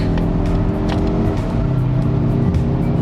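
A 2024 Mazda3 Hatchback Turbo cruising at 63 mph through traffic, giving a steady, loud cabin drone of engine and road rumble that holds throughout with no talk.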